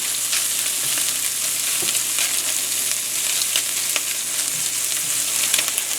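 Omelette fillings sizzling in a cast iron skillet over medium heat, a steady close crackle and hiss with occasional sharper pops, no voices over it.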